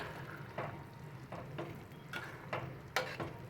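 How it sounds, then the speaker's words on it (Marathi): Rajma masala is sautéed in a pressure cooker pan over a medium flame, with a soft sizzle and a series of scraping, clinking spoon strokes against the metal, quiet and close. "हे चांगलं असं आपण परतून घेऊया."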